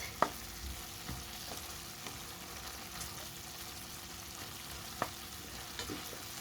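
Beef and broccoli being stirred in a pan with thickening broth, giving a quiet, steady sizzle broken by occasional sharp scrapes and taps of the utensil against the pan.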